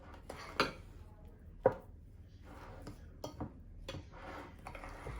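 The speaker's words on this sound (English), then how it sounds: "Let's try to mix it before we beat it." Eggless vegan cake batter with oil is mixed in a bowl, an utensil tapping and scraping the sides in quiet, irregular knocks with a couple of sharper clacks, close and without talking.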